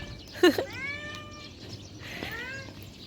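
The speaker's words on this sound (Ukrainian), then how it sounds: "Кіт Олег зустрічає мене, вітає мене" A cat lets out two drawn-out, wailing meows, loud and close, with a quieter pause between them.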